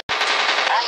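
A short, loud burst of rapid machine gun fire from the aircraft combat game War Planes, a continuous rattle lasting under a second.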